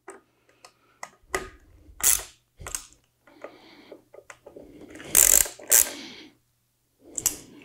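Fasteners are tightened by hand while a Harley-Davidson head unit is installed, giving sharp, scattered ratcheting clicks and brief tool bursts with quiet gaps between them.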